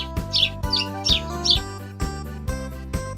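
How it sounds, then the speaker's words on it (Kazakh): A sparrow chirps four quick, bright times over a steady backing of soft, beat-driven music; the chirps are close and clear and stop partway through, leaving the music. "Торғай."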